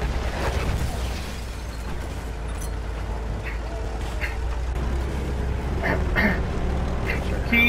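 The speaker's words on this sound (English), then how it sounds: "We got more mortars! Yep. Coming after us." Mortar rounds burst in a Battlefield 1 tank battle, several muffled booms and pops falling at intervals over a constant low engine rumble.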